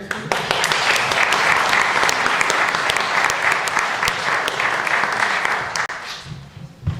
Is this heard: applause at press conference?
yes